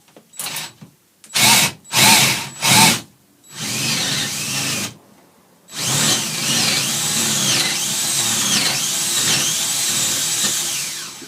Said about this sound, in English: Flick it into the speed and just carry the drill when you're doing this to start with.